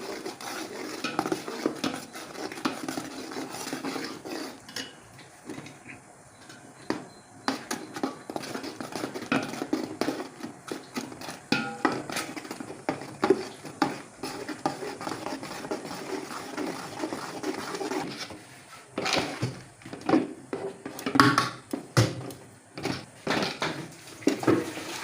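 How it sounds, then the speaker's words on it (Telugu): A spoon scrapes and clinks against a pot as flour is stirred little by little into sugar syrup, with irregular repeated scraping strokes close up and fairly loud, and no talking over it. "సో ఇప్పుడు మనం ఇందులో కొంచెం కొంచెం వేసుకొని కలుపుతాం."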